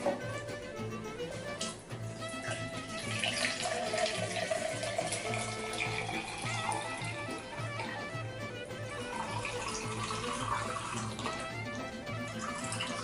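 Broth poured from cartons into a cooking pot for matzo ball soup, a continuous gurgling stream of liquid that runs the whole time at moderate level, with faint kitchen sounds beneath.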